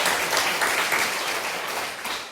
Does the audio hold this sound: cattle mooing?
no